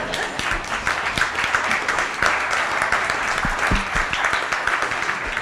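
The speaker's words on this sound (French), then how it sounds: "on va les applaudir parce qu'ils diffusent" An audience at a healthcare conference session applauds, a thick continuous clatter of many clapping hands at fairly high loudness, with scattered louder claps and faint murmurs underneath.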